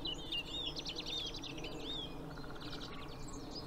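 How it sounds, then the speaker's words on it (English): Several birds chirp and whistle at once, high bright calls overlapping against a faint, steady outdoor hum. "I can't even begin to count the number of different birdsong I can hear."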